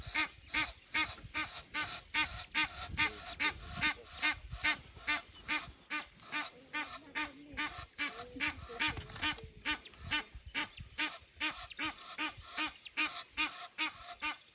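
Wild ducks in Tsavo East National Park quack in a dense, continuous chorus, a flock calling loudly and steadily with overlapping rhythmic quacks throughout.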